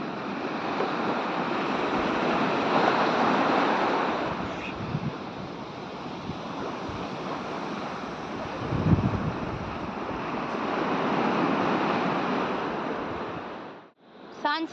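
Sea waves wash onto a beach in a steady roar that rises and falls in slow swells, mixed with gusty wind buffeting the microphone, before a brief drop near the end.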